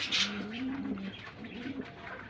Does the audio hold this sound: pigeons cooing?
yes